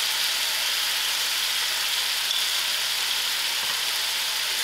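Potatoes fry in a pan with salt, giving a loud, steady hiss of sizzling oil that stays even and close throughout, with no talk.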